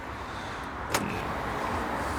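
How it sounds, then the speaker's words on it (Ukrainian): A 2017 Peugeot iOn / Citroen C-Zero / Mitsubishi i-MiEV electric city car locks with its key, giving one brief sharp click amid steady outdoor background noise, with the mirrors folding as a faint motor hum. "Ключиком хлоп, закрили, дзеркала заїхали"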